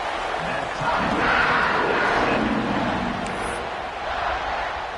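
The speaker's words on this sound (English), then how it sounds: "this crowd is feeling themselves after that last drive" A stadium crowd in a college football video game, Kansas State against Virginia Tech, roars and cheers steadily and loudly after a scoring drive, a dense sustained wash of noise.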